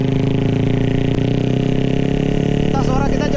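Loud motorcycle exhaust roaring steadily from a bike riding just ahead on a damaged road, heard through wind and engine noise, with a voice talking over it near the end.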